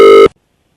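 A telephone ring tone on a prank call sounds loud and clear for a brief burst, then cuts off abruptly into silence.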